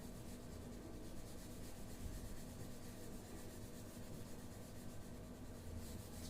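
Steady soft scratchy rubbing of a board being wiped clean in a classroom, continuous and faint, with no speech.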